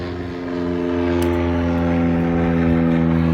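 A propeller airplane circles overhead, its steady droning engine tone swelling gradually louder and closer over a few seconds, heard alone without talk.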